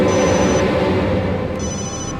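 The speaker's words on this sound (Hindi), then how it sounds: "उसी का फोन है।" A telephone rings in a tense thriller scene, a steady high electronic trill sounding in two bursts over a thick, loud background of dramatic noise.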